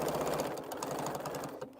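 A sewing machine runs steadily while stitching a quilted fabric bowl, its fast even clatter close and continuous, slowing slightly near the end.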